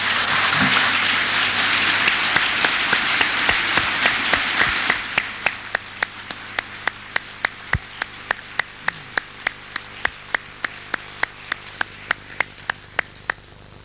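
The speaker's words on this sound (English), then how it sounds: "I'm delighted that we have such applause, and I welcome it." Audience at an environmental forum applauds: dense clapping for about five seconds, then thinning to a few slow, sharp claps from several people that continue alone until the end.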